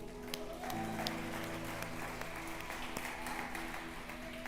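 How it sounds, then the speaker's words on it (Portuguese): A church congregation claps together after a prayer, steady massed applause heard faintly and somewhat distant, with organ or keyboard tones sustained underneath. "aplauda o Senhor"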